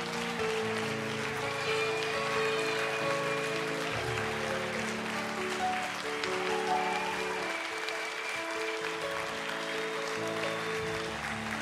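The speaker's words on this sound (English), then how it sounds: "Give them a big round of applause." An audience claps for a band, a sustained, dense round of applause that holds steady throughout, with a murmur of voices mixed into the crowd.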